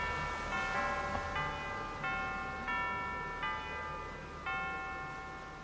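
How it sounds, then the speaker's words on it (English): Church bells from the video game Bad North ring in a slow, evenly spaced series of about seven resonant strikes. Each tone rings on and decays over a quiet background. "I love the church bells."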